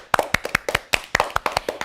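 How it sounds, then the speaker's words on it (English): A small group of classmates claps for a student in a classroom, quick uneven hand claps repeating steadily for a couple of seconds, close and fairly loud with no talking. "Let us all clap for her."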